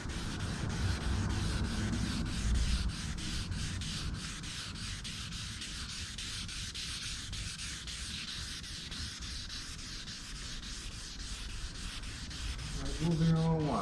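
Car paint is wet sanded with a steady, close, rhythmic rubbing and scraping that continues throughout, with no talking.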